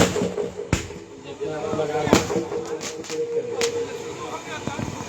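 Firecrackers go off at a gathering during a religious talk, several sharp scattered pops and bangs at irregular intervals, some fairly close, over a steady murmur of crowd and amplified voice.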